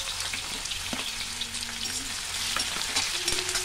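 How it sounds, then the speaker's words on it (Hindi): Finely chopped onion fries in hot oil with mustard seeds for poha chivda, giving a continuous close crackling sizzle with occasional stirring scrapes. "अब इसमें ही प्याज हल्का सा फ्राई हो गया है,"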